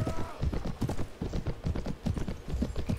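Horse hooves clip-clop in a steady, fast rhythm throughout, fairly close and loud, with game ambience underneath, as a mount gallops in the Viking-era strategy game Viking Conquest.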